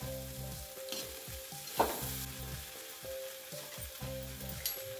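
Green peas frying in desi ghee in a pan, a steady close crackling sizzle with occasional stirring scrapes, alone without speech.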